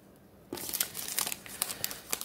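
Pokémon trading cards handled and packed away, a sudden burst of crinkling plastic and rustling, close and fairly loud, with irregular crackles after a quiet start.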